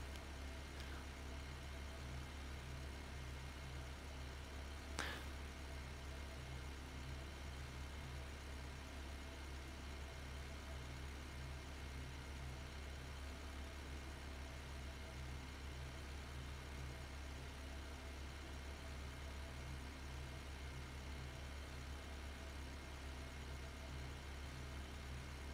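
A farm tractor engine in Farming Simulator 15 idles steadily, a constant low rumble with a faint rhythmic throb and no other notable sounds.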